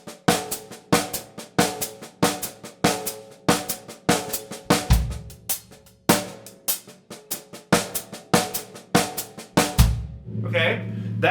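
Drums play a steady stream of eighth-note triplets with accented upbeats, crisp rapid strokes in a repeating pattern, with occasional low booming hits and a brief cymbal wash at the end.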